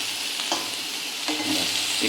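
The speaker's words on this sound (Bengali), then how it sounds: "ধরে নাড়বে, ঠিক আছে, নাড়ো নাড়ো উল্টে" Chicken pieces frying in a pan while being stirred and flipped, a loud continuous sizzle broken by a couple of scraping, turning strokes, close up with no talking.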